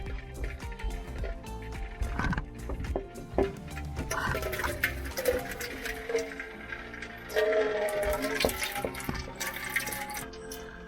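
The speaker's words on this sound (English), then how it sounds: "you need to be prepared with a bowl to collect this extra water that is coming from the pipe" Water draining out of a disconnected single-handle pull-out kitchen faucet pipe into a bowl, continuous splashing and dripping with irregular gurgles and knocks, close and moderately loud.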